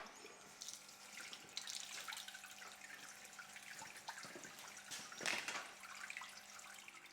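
A budget flood coolant system pumps water-soluble cutting fluid, giving a steady, faint running-water splash and trickle, like a tap flowing into a sink, with small drips and gurgles throughout.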